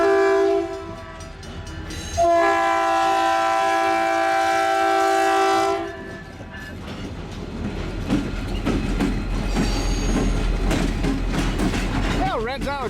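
A westbound CN freight train passes in Cedar Falls, Iowa, its horn blaring loud and sustained, then dropping away into a steady rumble and clatter of cars rolling by close at hand.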